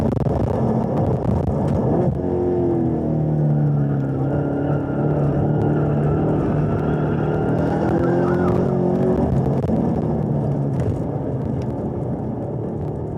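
A 2019 Chevrolet Camaro SS 1LE lapping a race track, its engine droning loud and steady throughout with rising and falling pitch through gear changes and brief tire squeal, no talking.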